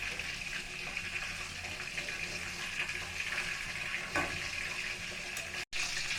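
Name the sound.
chicken chaap frying in pan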